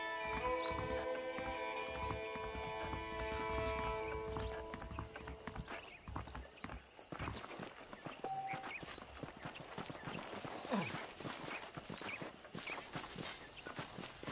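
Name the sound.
horses clip-clopping in the video game Red Dead Redemption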